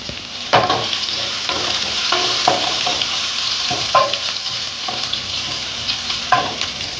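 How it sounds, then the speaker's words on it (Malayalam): Crushed garlic fries in hot oil in a pan for dal fry, a steady close sizzle broken by several scraping clicks of a spoon stirring against the metal. "വെളുത്തുള്ളി ചതച്ചത് ഇട്ടിട്ട് നന്നായിട്ടൊന്ന് ഇളക്കി കൊടുക്കണം."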